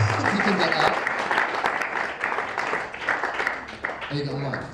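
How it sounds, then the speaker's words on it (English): Audience applause at a live talk event welcoming a guest forward, steady crowd clapping that runs the whole time, with a few voices talking over it and the clapping thinning slightly toward the end. "Give him a little round of applause as he comes forward."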